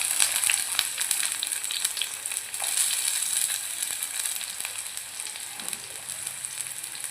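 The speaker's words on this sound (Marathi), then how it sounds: "तेल गरम झाले की त्यात आपण कांदा टाकूया" Onions and bay leaves frying in hot oil in a kadhai, giving a dense, continuous crackling sizzle that stays close and fairly even throughout.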